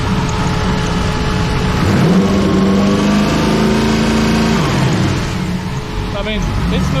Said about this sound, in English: But if you rev it up a little bit,